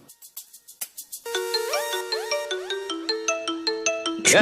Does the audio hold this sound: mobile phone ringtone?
yes